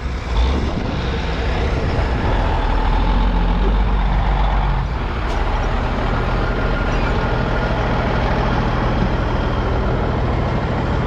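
A loud dump truck engine runs steadily while unloading corn during harvest, with low rumbling and heavy mechanical noise throughout, close by and without speech.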